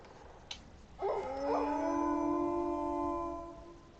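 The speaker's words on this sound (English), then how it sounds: "That's a cool howl" A creature in a survival video game lets out a long, clear howl after a brief click, rising and wavering in tone before holding a steady pitch and fading out, alone and fairly close.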